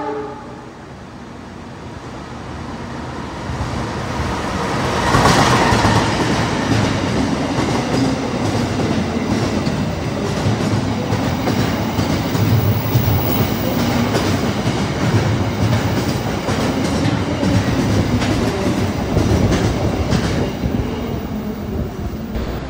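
A train runs along the rails on the Jogja to Jakarta line, a loud continuous rumble with rhythmic clickety-clack of wheels over rail joints lasting throughout, heard close by with no talking.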